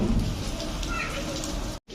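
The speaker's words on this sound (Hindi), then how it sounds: "बारिश हो रही है, बारिश की आवाज़ दिखाती हूँ सुनाती हूँ" Steady rain pours down outdoors in May, a dense continuous hiss with low rumbling underneath, holding fairly loud for the whole stretch apart from one brief dropout near the end.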